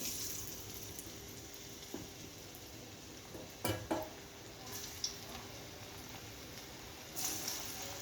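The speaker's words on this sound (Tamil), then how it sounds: "இப்போ நம்ம வந்து கொஞ்சம் கொஞ்சமாக பொரித்து எடுத்துக்கலாம்" Batter crackling as it fries in hot oil previously used for papads, a soft steady sizzle with a few brief louder pops and clinks, fairly quiet throughout.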